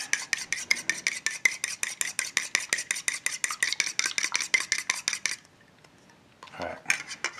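Homemade floating trout dough bait being mixed in a bowl makes a fast, even run of scraping and clinking utensil strokes for about five seconds, then a short pause and a couple more scrapes.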